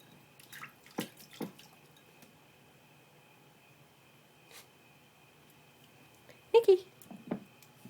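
A puppy blows bubbles into a water bowl, making scattered faint drips and small splashy bursts, with a sharper cluster of gurgles near the end in an otherwise quiet room.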